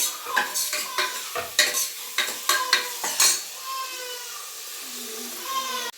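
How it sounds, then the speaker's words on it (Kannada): Tomatoes tipped into a pan of sambar made with Mangalore cucumber, field beans and crushed garlic: a string of sharp clinks and scrapes from stirring over a steady sizzle, which settles into a softer frying hiss near the end. "ಈಗ ಟೊಮೆಟೊನು ಹಾಕೊಳ್ತಿದ್ದೀನಿ"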